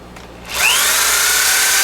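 A Rolls-Royce P3 dynamo runs with its field disconnected, a steady high whirring spin that swells up after a quieter start and holds at a loud, even pitch.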